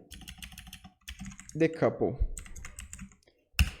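Rapid typing on a computer keyboard while installing a Python library from the command line, ending in a sharp Enter keypress, with someone speaking Portuguese over the clatter.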